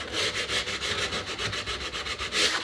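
Sandpaper of 100 grit rubbing back and forth over a wooden gun stock as it is stripped, a steady rhythmic scratching in close, even strokes that continue without pause.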